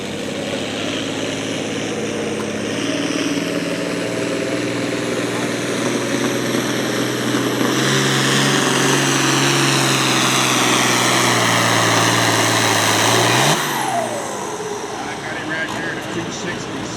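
International and John Deere pulling tractors roar with heavy, sustained engine noise at a truck and tractor pull in Paris, Kentucky, loud and continuous and rising in pitch before cutting off, with announcer talk over it.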